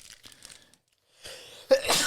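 A single sharp sneeze bursts out near the end after a short lull, loud and close, following some faint rustling earlier.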